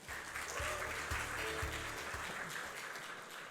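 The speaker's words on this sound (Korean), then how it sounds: "박수로 모시겠습니다" Audience applause at a university startup demo day welcomes a venture investor to the stage, a steady wash of clapping with faint music underneath, fading near the end.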